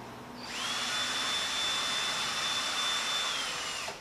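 A power drill bores through a small length of plastic tube slid onto the bit, a steady high whine that holds for about three seconds and then spins down, close and alone.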